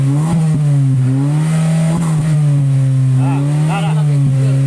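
Honda City 2012 engine revving through an aftermarket muffler, loud repeated throttle blips rising and falling in pitch around a steady idle rumble, close by, with a man calling out briefly over it.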